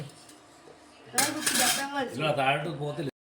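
A cooking pot of biryani is turned over and tapped. After a quiet start, a close burst of metallic clattering and ringing knocks lasts about two seconds, then stops abruptly.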